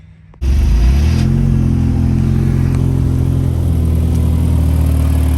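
A Mazda Miata engine with a GT2860 dual ball bearing turbo cranks and catches, then settles into a loud, steady rumbling idle with a slight rev, close by and without voices; it has a slight exhaust leak.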